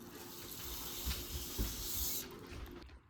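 Tap water runs steadily into a liter-sized jar with a continuous splashing hiss that fills the whole stretch, then cuts off near the end.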